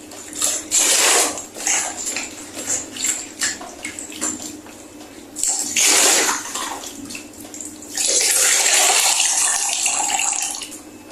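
A wig is rinsed in a basin of water: repeated close splashing and sloshing in bursts, with a long, steady rushing stretch near the end, loud and without any voices.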